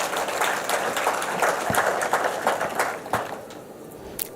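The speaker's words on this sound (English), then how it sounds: "A round of applause for him." Audience at a Kenyan financial policy launch event clapping for a banking association official, loose irregular claps from a modest crowd in a hall, steady then thinning out.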